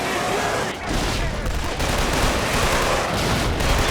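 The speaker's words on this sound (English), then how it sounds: "Literally firing RPGs at us." Dense gunfire and rocket blasts from the Killzone 2 shooter game fill a loud, continuous barrage with overlapping bursts and booms and no letup.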